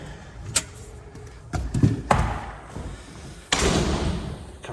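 A new security entry door on a three-bedroom bungalow is handled and shut, giving several close thumps, rattles and a firm slam with brief scraping between them.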